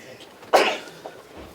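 One sharp, explosive sneeze bursts out midway through quiet room tone at a county commission meeting, followed by a faint small sound.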